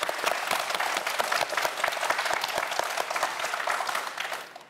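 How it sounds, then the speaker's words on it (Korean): A studio audience on a Korean science quiz show gives dense, lively applause for four student contestants, continuous and fairly loud before tapering off at the end. "최선을 다해준 우리 4학생 모두에게 큰 박수 부탁드립니다"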